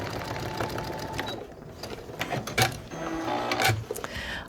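A sewing machine stitches lines across a cat-themed quilt block in short bursts of whirring, rattling needle action, punctuated by sharp mechanical clicks, close and fairly loud with no speech.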